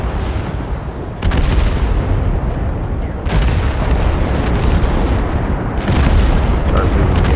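Counter-battery artillery in Total Conflict: Resistance, heavy booms arriving in a few loud surges over a constant rumbling battle bed, with a voice speaking over it.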